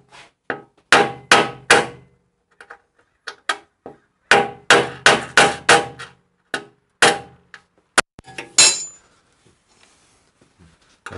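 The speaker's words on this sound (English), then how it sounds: "Now I'm going to tap that in very softly." Hammer tapping a bolt insert into a Panhead motorcycle part: bursts of sharp metallic clinks in quick rhythmic clusters, close and clear, pausing between groups, with no talk.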